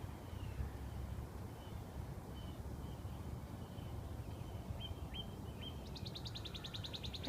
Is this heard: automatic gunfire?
no